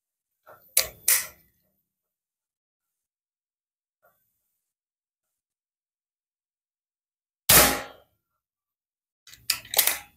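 An air gun fires its third pellet into a brick, the shot landing as a sharp, loud crack followed by a short clatter, amid a few other brief bangs and quiet gaps, with no voices.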